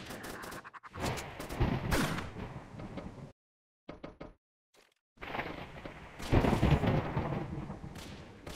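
Desert Eagle pistol shots in a Roblox game, loud sharp blasts with heavy rumbling tails, arriving in two bursts separated by a near-silent gap with a few faint clicks.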